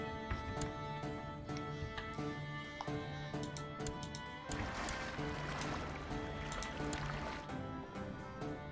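Boats creak and water laps and sloshes steadily in Crusader Kings 2, with a soft game-like ambience and faint tonal hum underneath, no talking.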